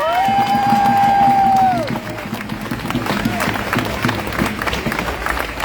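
A rally crowd claps and cheers, with a dense patter of applause and scattered shouts following a sustained whistle or tone, some voices mixed in.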